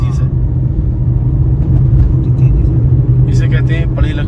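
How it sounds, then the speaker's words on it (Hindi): A car descends a mountain road in Kashmir with a steady low engine and road rumble throughout, and voices break in briefly near the end. "अब नीचे उतर रही है गाड़ी"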